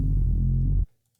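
A Serum 2 synth bass oscillator using an anti-stasis wavetable plays a loud, gritty low note with faint distortion fizz, holding steadily for under a second before cutting off abruptly.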